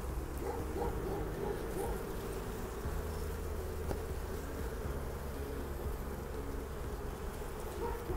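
Honeybees buzz steadily in an open hive during a queen check, a faint, continuous drone heard close throughout with no talk.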